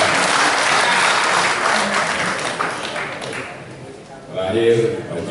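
Sustained audience applause in a city council plenary session hall, a loud, even roar of clapping that fades and tails off, then a voice speaks over the remaining claps.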